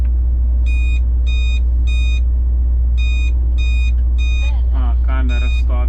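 A car speed camera alert device chirps in repeated groups of short, high electronic beeps, close and clear, over a steady low engine and road hum inside a moving car, followed by a few warbling tones.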